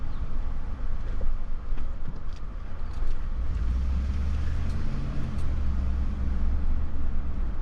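A car drives through a Detroit neighborhood in the Claytown area near Dearborn, with a steady low road and engine rumble throughout and faint passing traffic noise, no talking.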